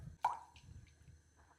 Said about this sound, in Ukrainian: Тепер ставимо цю глазур на вогонь і уварюємо на маленькому вогні приблизно 5-7 хвилин, щоб вона трішки загустіла.